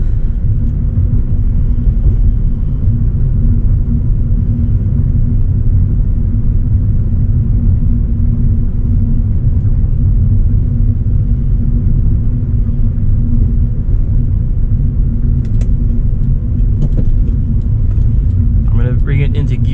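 A 1997 Acura CL with a manual transmission cruising along, its engine giving a loud, steady low rumble with road noise throughout.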